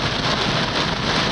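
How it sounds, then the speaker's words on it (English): Pouring rain during a thunderstorm, a dense, loud, steady hiss of heavy rainfall with no break across the short stretch. "it's pouring rain again."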